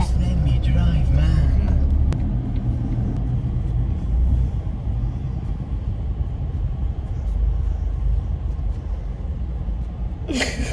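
A car drives on a road toward a ferry to Gozo, Malta, its steady engine rumble and road noise loud and constant from inside the cabin, with people talking over it.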